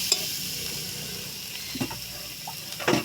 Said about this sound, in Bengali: দিয়ে ভালো করে কষে নেব।